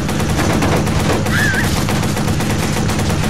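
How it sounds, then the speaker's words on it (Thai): Gunshots fired at a car's tyres during a Watch Dogs online match in Chicago on PS4, a dense burst of gunfire over a steady loud wash of game noise and engine roar. "คนนี้ยิงล้อครับ"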